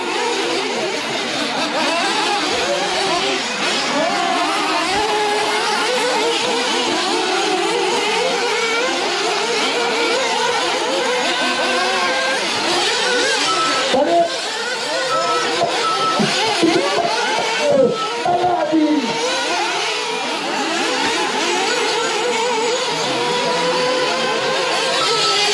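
Rally car, a WRC-class machine at a race, with a sustained engine whir and revving heard from a distance, loud and steady throughout with brief swells as it passes below amid crowd noise.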